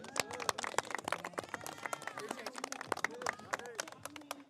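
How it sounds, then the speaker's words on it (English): Parents clap and cheer for a 14U youth team's championship win, a dense, steady patter of applause with scattered shouts and crowd voices mixed in throughout. "we want to give them applause and say congratulations on the big win"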